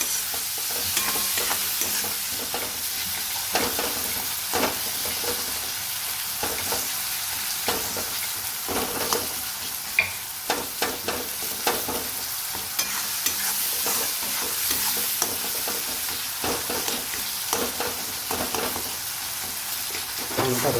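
Batata poha, flattened rice with potatoes, frying in a pan while being stirred: continuous close scraping and rhythmic stirring over a steady sizzle, with brief quiet talk.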